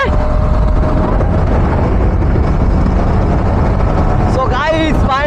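Motorcycle cruising on a highway, a loud continuous engine drone with heavy wind rumble that never lets up, and a brief rising whistle-like squeal near the end.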